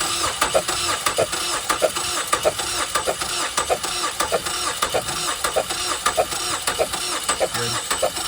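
A 2013 Ford Escape engine runs roughly during a misfire test with a suspected head gasket failure, giving an uneven pulsing chug with irregular beats under a steady mechanical hum.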